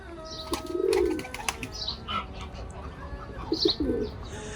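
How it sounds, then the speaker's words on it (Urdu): Pigeons coo in low, soft bursts in a garden in Medina, amid scattered bird chirps and outdoor background noise. "اس باغ میں جو ہے کبوتر بھی موجود ہیں، آپ دیکھ سکتے ہیں"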